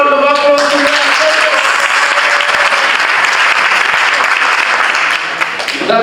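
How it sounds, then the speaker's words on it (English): Audience applause at a student association handover and inauguration ceremony, a dense, loud burst of clapping that fills the hall and fades slightly at the end. "let's give another round of applause to them."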